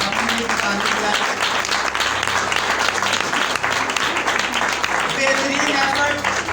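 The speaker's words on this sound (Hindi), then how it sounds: "मैं अपनी कलीसिया के लिए खुद भी ताली बजाना चाहता हूँ और अपने लिए ताली बजाना।" Church congregation clapping steadily throughout, a dense, loud wash of applause with a faint murmur of voices beneath.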